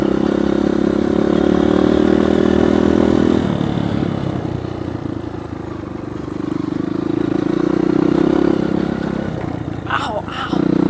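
A dirt bike engine on a sandy trail holds a steady drone, falls back, then revs up again, with clattering and a person talking nearby.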